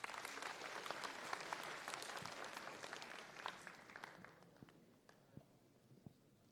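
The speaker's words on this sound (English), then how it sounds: "Let's give a big round of applause for James." Audience applause for keynote speaker James Powell at PyCon India fills a conference hall, dense clapping that gradually thins and fades to a few scattered claps by the end.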